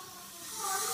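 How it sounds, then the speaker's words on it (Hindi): A home pressure cooker releasing steam through its whistle, heard as a loud, close, steady hiss that swells and grows brighter toward the end of the brief moment, with no speech over it. "मम्मी एक बार और ये बज गया, मैं फेंक दूंगी इस कुकर को"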